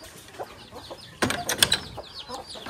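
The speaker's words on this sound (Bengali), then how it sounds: "আর এখানে হচ্ছে দেশি মুরগি বাচ্চা" Domestic chicks on a small poultry farm give faint, scattered peeps at a distance, followed by a louder burst of rustling and chirping midway, with no talking.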